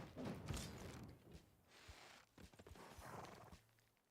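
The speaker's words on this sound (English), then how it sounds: "horses moving up." Horse units moving in a Civilization VI match, with soft clip-clopping hooves, faint creaks and a brief whinny over a low game ambience, quiet and somewhat distant.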